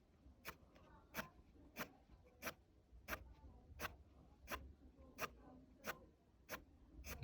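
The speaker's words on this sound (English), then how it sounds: "if I swap to my other colour pencil" A colour pencil drawn across paper in quiet, regular strokes. The scratches come roughly every half second in an even rhythm, faint and close.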